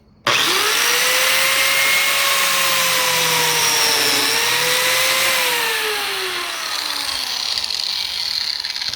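A biscuit joiner cutting into a wooden board gives a steady loud whine that starts abruptly and sags in pitch as the blade bites, then eases, close up with no talking.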